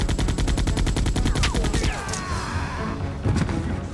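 Rapid automatic gunfire in Resident Evil 2, a fast regular string of loud shots for about two seconds, then crashing impacts and scattered bangs.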